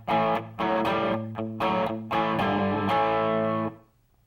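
An electric guitar through a Digitech RP250 multi-effects preset with heavy distortion, studio reverb and effects, playing a short phrase of sustained chords and notes, ringing out, then fading to silence.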